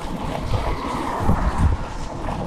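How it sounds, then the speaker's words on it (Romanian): A jet ski at full throttle on the water near a bridge, its engine a steady low roar mixed with wind buffeting the microphone and rushing water, fairly loud and continuous with no talking. "Urlă scuterul."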